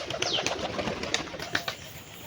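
A pair of fantail (lakka) pigeons coo softly in short, spaced calls close by, with faint chirps and brief wing flutters against a quiet background and no talking.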